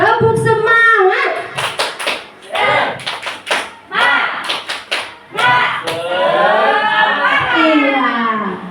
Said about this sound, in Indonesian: Tepuk semangat lah dulu Bapak Ibu.